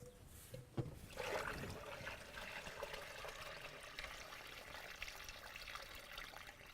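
Water gushing from the outlet of an irrigation pump, a steady broadband rush that runs the whole time, close and fairly loud, with a brief clatter near the start.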